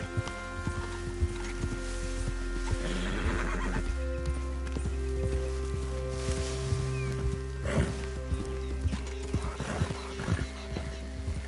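A horse in the video game Red Dead Redemption 2 whinnies and neighs while its hooves clop steadily, heard close over a low, sustained background drone.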